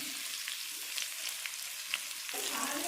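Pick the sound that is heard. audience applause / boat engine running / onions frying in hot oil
onions frying in hot oil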